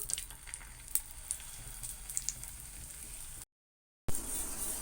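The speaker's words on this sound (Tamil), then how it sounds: "இப்போ கொஞ்சமாக எண்ணெய் ஊற்றிக்கிறோம். தோசைக்கல்லில் போட்டுக்கலாம்." Parotta sizzles steadily in a little oil on a tawa griddle, a soft continuous frying hiss with faint pops, briefly cut to silence and then resuming.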